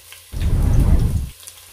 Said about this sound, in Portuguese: O óleo está quente para não queimarmos a nossa cebola, o alho.